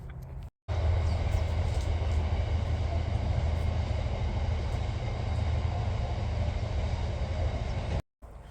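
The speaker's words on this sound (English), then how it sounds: "a train just went past" A train passes nearby outdoors, a loud continuous rumble and rolling roar that holds steady for several seconds between brief cutouts.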